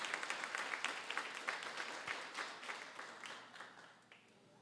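Church congregation clapping at a Sunday service, a soft, somewhat distant round of applause that gradually tapers off.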